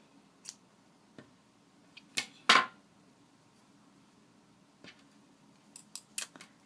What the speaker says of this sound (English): And then I'm going to cut the yarn.